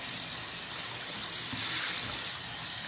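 Lukewarm tap water runs steadily while a cloth face mask is rinsed under it, a continuous close hiss and splash of flowing water with no talking.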